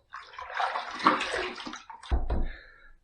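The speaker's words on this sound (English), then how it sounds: "All right, first pass done. Let's rinse." Running water splashes and swishes as a razor is rinsed partway through a wet shave, steady for about two seconds and then ending in a louder splashing burst, close by, with no talking.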